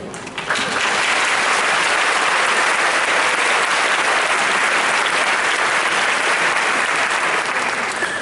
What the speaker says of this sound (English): please give them a round of applause to honor their contribution to your future.